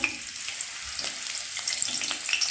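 Chopped green chillies hit hot mustard oil that already holds bay leaves, and a bright, crackling sizzle rises and holds steady. It is close and fairly soft, with a faint clink or two and no talking.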